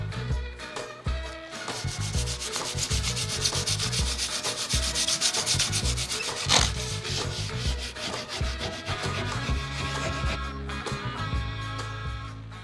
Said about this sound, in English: use 3000 grade wet sanding paper and some soapy water